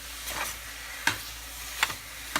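Ground meat browning in a pan with garlic and onion for turkey gravy, a steady close sizzle broken by several scraping strokes of a spoon stirring it around, with no talking.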